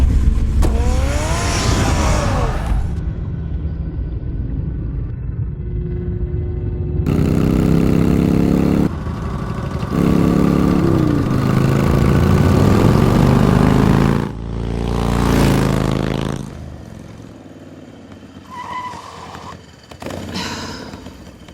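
Car engine in the Batman Telltale video game, loud revving and accelerating in surges with pitch sweeps and abrupt cuts between bursts, interspersed with idling and mechanical clunks, with no speech.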